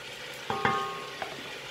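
Beef frying in a pan with garlic, onion and leek, giving a steady close sizzle broken by a few sharp clicks and taps of a utensil.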